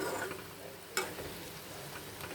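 Curry masala with garam masala and coriander powder being stirred and fried in oil, a steady soft sizzle with scraping stirs and one brief sharp clink near the middle, fairly quiet and close.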